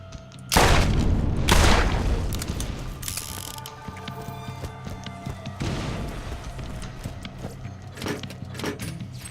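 A loud explosion in Borderlands, a sudden heavy blast followed by rumbling debris and clattering mechanical sounds, then scattered smaller bangs and gunfire fading over several seconds.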